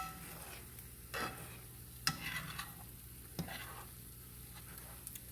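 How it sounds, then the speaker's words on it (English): Eggs being gently pulled back with a utensil in a frying pan during a country breakfast cook, giving a low steady sizzle with a few soft scrapes and light clinks, no talking. "Now you can start pulling the eggs back,"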